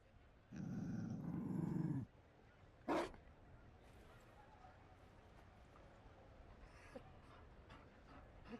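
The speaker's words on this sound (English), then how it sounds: "You found a dog. They don't breed Mabari in Olay." A Mabari war dog growls in Dragon Age Inquisition, a low rumbling snarl lasting about a second and a half, followed by a short sharp burst, then a quiet room tone.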